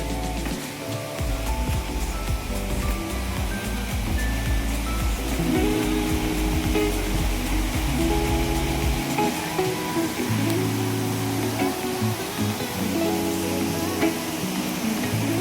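A waterfall at Saptasajya in Dhenkanal pours steadily in a continuous broadband rush, loud and close throughout, with a low rumble in the first half that fades partway through.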